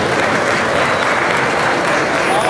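Crowd applause for the hunting society at a 775th village anniversary celebration in Dallmin, 2014: dense, steady clapping from a large audience, loud and unbroken for the whole stretch.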